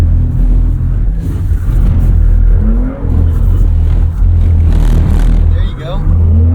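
A 2023 Porsche Cayenne S, driven at the Porsche Experience Center in Los Angeles, gets a short throttle blip: a loud cabin rumble that swells briefly and then settles, with a person talking over it.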